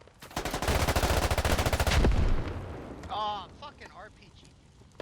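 Rapid gunfire bursts in combat, rounds striking the side of a wall as a Marine firefight rages, dense loud volleys for two seconds, then a fading rumble with shouting voices over it.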